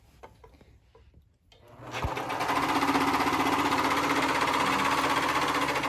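A White Speedylock 1600 serger sewing a chain stitch starts up after a few quiet clicks and then runs steadily at a fast, even whirring chatter, loud and close.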